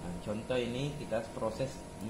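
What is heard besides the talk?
No distinct noise like a dog, phone or traffic.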